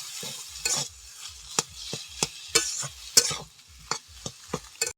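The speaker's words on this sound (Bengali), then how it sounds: "কাঁচা লঙ্কাটা ভালোভাবে মিশিয়ে নিয়েছি আলুর সঙ্গে" Chopped green chillies stirred into potatoes in a pan make a run of sharp, regular scraping strokes over a faint sizzle, close and fairly loud.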